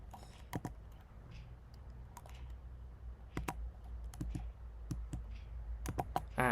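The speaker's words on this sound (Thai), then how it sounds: "เราพิมพ์ต่อนะครับ" Someone types code on a computer keyboard: quiet, irregular key clicks in short bursts and single taps over a low room hum, with no talk.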